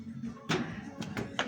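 A hammer taps a rubber bushing onto a front stabilizer part of a Volvo XC90 during a suspension repair: a few sharp, close knocks in quick succession with brief pauses between them.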